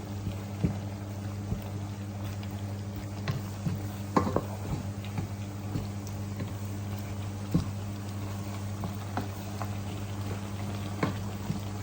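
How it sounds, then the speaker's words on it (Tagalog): Soy sauce is stirred into a chicken bihon guisado mixture in a pan, giving soft scrapes and gentle sizzling over a constant low hum. A few light clinks stand out close by, with no talking. "Lagyan natin ng soy sauce. Haluin."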